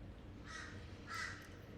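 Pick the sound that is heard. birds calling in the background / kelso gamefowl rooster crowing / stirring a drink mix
birds calling in the background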